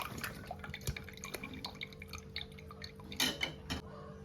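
Water drips and trickles as it drains from boiled cauliflower for gobi manchurian in a home kitchen, with scattered small drops and light clinks of a pot or utensil, quiet and close with no talking.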